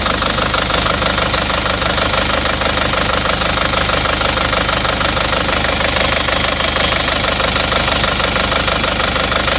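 A Isuzu Panther diesel engine runs steadily up close, loud and constant, with a rapid rhythmic knocking clatter throughout and no voices; compression pressure 22 bar.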